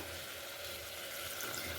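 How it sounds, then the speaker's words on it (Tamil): Water splashing steadily into a pot of mutton curry with spice mix, a continuous faint pouring wash with no voices. "இப்போ நல்லா தண்ணி ஊற்றிடலாம்"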